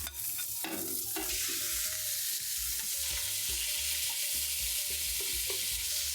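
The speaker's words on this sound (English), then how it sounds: "And now in goes the ground beef." Ground beef sears in olive oil in a hot pot, a steady close crackling sizzle with a few scrapes and clunks of the meat landing and being moved at the start.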